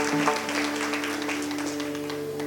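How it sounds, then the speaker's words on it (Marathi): Audience applause at a Marathi kirtan devotional gathering, a steady wash of clapping from a crowd that holds evenly for a few seconds, with a harmonium-like drone sustained underneath. "त्यांच्यासाठी एकदा आपण टाळी वाजवूयात सगळ्यांनी"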